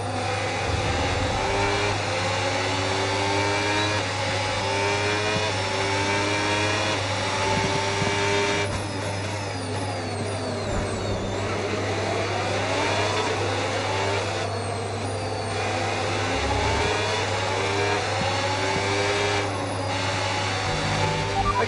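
Formula One racing car engine accelerating in F1 26, a loud continuous high-pitched whine rising and falling through repeated gear shifts over a steady low drone, near and sustained throughout with no talk.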